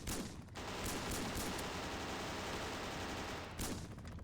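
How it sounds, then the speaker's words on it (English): Dense, sustained video-game gunfire and explosions from an airstrike during a close match, a loud continuous barrage for about three seconds bracketed by short bursts, with no talking. "Somebody just launched an airstrike, by the way"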